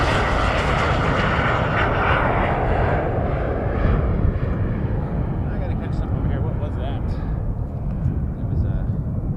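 An airplane landing on runway 06 at Montreal-Trudeau Airport: a loud, broad engine roar and rushing noise that slowly fades, while voices talk over it.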